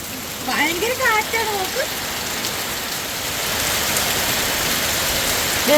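Steady, heavy monsoon rain in Wayanad pours down in a dense hiss close by; briefly at the start a voice talks over it.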